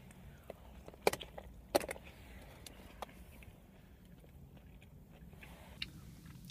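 Quiet, close crunching bites and soft chewing of a shrimp avocado taco, with a couple of sharper crunches early on, then low mouth sounds over faint background.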